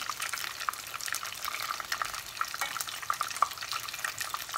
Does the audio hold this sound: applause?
no